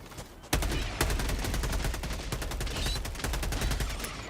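The Liberator assault rifle in the video game Helldivers 2 fires continuously in a steady, rapid stream of close, loud shots lasting several seconds, with no talking.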